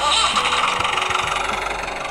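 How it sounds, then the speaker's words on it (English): Toy tractor engine sound from a Matchbox farm playset, a loud buzzy mechanical whir with a fast rattling pulse that runs continuously and fades slightly toward the end, heard close up in a park. "There's a tractor."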